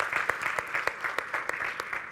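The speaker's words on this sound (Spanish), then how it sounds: "Un fuerte aplauso para ellas" Applause from an audience at a talk on injuries in elite competitive skiing, honoring athletes; a soft, fairly distant patter of clapping with a few distinct sharper claps, slightly faint overall.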